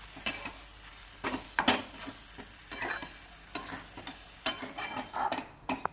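A spoon stirs mango semolina sheera in a pan, giving soft scraping strokes at an irregular pace over a faint sizzle, close and fairly quiet.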